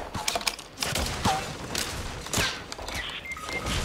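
Scattered gunshots from a Fortnite match, a mix of sharp cracks and thuds at moderate distance in a busy, noisy mix with no clear talk.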